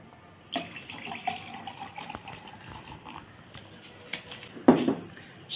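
Sprite soda poured into a glass of tamarind mojito mocktail with fresh lime, giving a steady close-up trickle and fizz that swells into a brief louder splash near the end.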